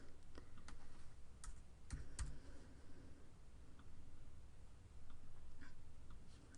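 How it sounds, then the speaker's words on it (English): Arrow keys tapped on a computer keyboard while nudging a design into place, a few soft, sparse clicks scattered over steady background noise with no talking. "scooch it with my arrows on my keyboard"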